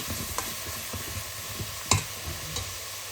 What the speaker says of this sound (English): Ya metemos la cebolla, 2 cebollas, y cocinamos la cebolla hasta que está translucent